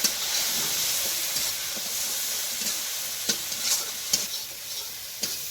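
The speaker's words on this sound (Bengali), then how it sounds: "এই সব কটা মশলা এবার আমি কষে নেব।" Turmeric, chili powder and sugar sautéed in a little oil in a pan, a constant bright hiss and sizzle with several distinct scraping strokes of a spoon, near and moderately loud.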